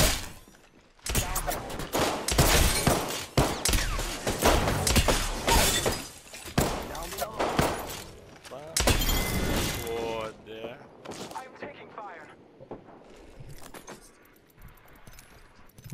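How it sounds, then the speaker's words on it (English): Gunfire from the Apex Legends video game crackles in dense, loud rapid bursts for about ten seconds, then thins into scattered shots and clinks as the action fades. "Taking fire."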